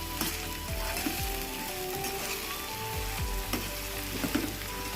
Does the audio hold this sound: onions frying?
yes